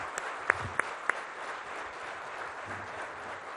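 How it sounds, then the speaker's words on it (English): An audience gives a standing ovation to former ISRO chairman Kiran Kumar at a conclave. A steady wash of crowd applause holds at moderate, fairly distant level, with a few sharper individual claps standing out early on. "let's give Mr. Kiran Kumar a very, very warm round of applause, a standing ovation for an outstanding scientist"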